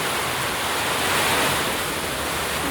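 Strong Typhoon Kristine winds roar in a steady, dense broadband rush with no breaks. The sound is loud and close, with no talk over it.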